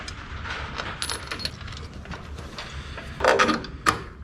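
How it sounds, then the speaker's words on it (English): Bolts go into a tractor clutch assembly on an IH 1066, with light metallic clinks and rattles, a few sharper taps and a louder clank near the end, close and without talk. "let's go ahead and throw the rest of the bolts in there"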